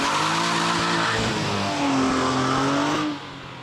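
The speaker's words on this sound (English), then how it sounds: "A little bit of tire spin." A front-wheel-drive Honda V6 car with a 6-speed spins its tires while driving, giving a sustained, loud tire squeal over the engine's rising drone before the sound drops off near the end.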